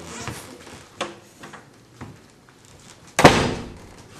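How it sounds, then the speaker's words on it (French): A door is pushed shut in an indoor room, with soft footsteps and light handling noises first, then a single solid thud near the end, close and fairly loud. "Je vais aller fermer la porte."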